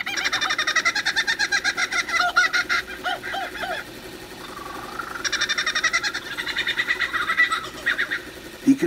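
A lyrebird sings loud and close, cycling through different tones: a fast series of repeated honk-like notes, then sliding whistles, then another rapid run of calls, all without any talking.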